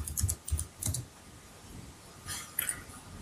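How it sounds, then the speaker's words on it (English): Brief bursts of typing on a computer keyboard into a web browser, a few quick clustered key clicks separated by quiet gaps, soft and close. "Open up a browser and type in"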